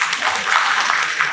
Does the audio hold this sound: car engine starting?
no